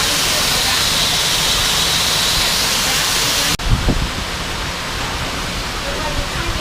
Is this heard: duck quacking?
no